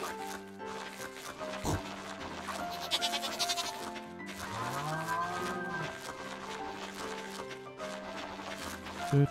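Sheep bleat in the farming game Stardew Valley, several wavering cries heard over the game's steady background music.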